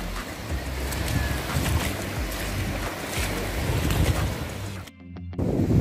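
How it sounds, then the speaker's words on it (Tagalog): Small fishing boat out on choppy open sea, with steady broadband wash of waves and wind buffeting the microphone throughout, a brief dip and thump near the end. "Ito yan medyo maalon para Jeff."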